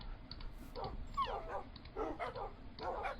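A litter of seven newborn puppies whimper and yip softly while feeding, with scattered high squeaks and short whines rising from a quiet, close background.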